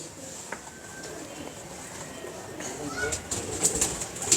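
Racing pigeons at a Model Town loft in Pakistan give soft cooing calls with a few brief wing flaps, moderately close, against steady background noise.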